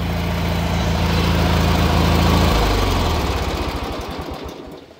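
A 1983 John Deere 116 lawn tractor engine runs loud and close with a rough, grinding drone, then winds down and stops near the end.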